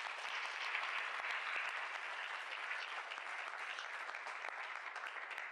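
A church congregation applauds loudly for Jesus, a dense, steady wash of many hands clapping that holds evenly for several seconds with no break.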